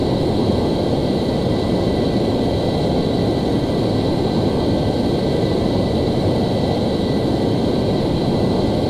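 An F-14 jet flying in Flight Simulator X over Turkey, a constant loud roaring engine drone with a steady whine, unbroken and close throughout, no voices.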